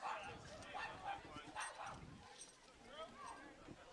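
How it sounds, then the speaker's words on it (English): A dog barks and yips excitedly behind the broadcast booth at a Cape Cod League baseball game between Falmouth and Harwich, several short sharp barks at moderate distance mixed with crowd noise and announcer talk. "mic is picking up the amount of barking behind us"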